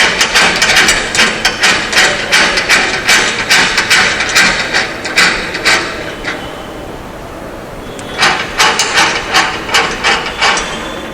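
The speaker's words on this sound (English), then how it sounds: "it is now time to tighten the screws of the reaction frame" Screws on a CBR test reaction frame turned with a ratchet, a brisk, regular run of clicking strokes close by, a pause, then a second burst of even clicks, with no talk.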